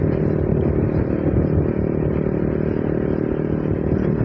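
A Bajaj Pulsar N160 motorcycle with a very loud aftermarket exhaust, a steady, throaty engine drone running close by and loud for the whole stretch.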